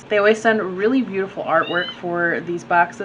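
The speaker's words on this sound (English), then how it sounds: "I'm sorry if you can hear the meowing in the background" A pet cat named Luna meows for attention in the background of a room while someone talks over it, the short mews faint and partly buried under her voice.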